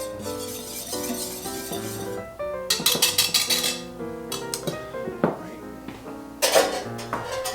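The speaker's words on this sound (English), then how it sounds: "Just go ahead and whisk those together." Dry cake ingredients and salt whisked in a bowl, bursts of quick metallic scraping and clinking against the bowl separated by pauses, with soft background music underneath.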